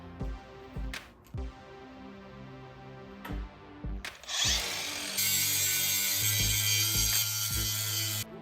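Metal mounting plates for a Rhino-Rack BackBone and Pioneer Tray on an RSI SmartCap get trimmed on a grinder, a rising whine and harsh grinding that starts around the middle and holds steady, after several clunks and knocks of handling.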